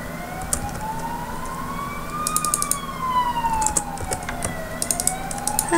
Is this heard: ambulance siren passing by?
yes